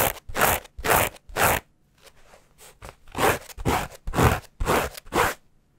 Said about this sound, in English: Now let's hear how crispy this denim is.